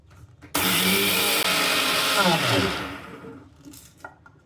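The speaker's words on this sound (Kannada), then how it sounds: "ಇದು ಸಕ್ಕರೆನ ಪುಡಿ ಮಾಡ್ಕೊತಾ ಇದ್ದೀನಿ ಇದನ್ನು ನುಣ್ಣು ಪುಡಿ ಮಾಡಿಕೊಳ್ಳ್ರಿ" A mixer grinder powdering sugar for besan laddu starts abruptly with a loud, high whirring roar, holds for about two seconds, then winds down and trails off into quiet.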